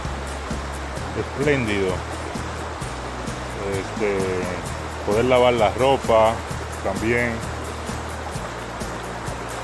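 Water of the Yaque river flows in a steady, broad rush close by while someone speaks over it in short phrases, the stream continuing beneath and between his words.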